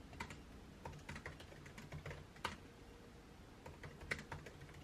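Quiet, steady typing on a computer keyboard as blog keywords are entered, a run of light irregular key clicks with a few sharper taps, close and alone.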